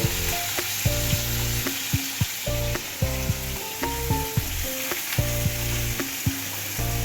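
Potato curry with cumin frying in a pan, a steady close sizzle with stirring clatter and scraping across the whole stretch, while music with a steady beat plays alongside.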